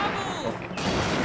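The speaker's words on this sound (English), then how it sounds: "Okay, we are getting pop shots off on us." Enemy troops fire volleys of gunshots in Total War: Fall of the Samurai, a rolling crackle of distant rifle fire and battle noise under someone talking.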